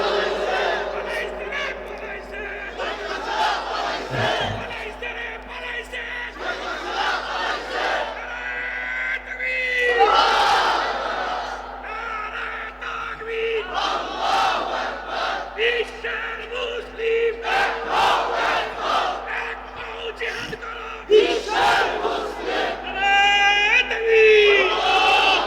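A large crowd at a religious gathering chants a slogan together in repeated loud rhythmic calls, a roaring massed voice rising and falling over a steady low hum for the whole stretch.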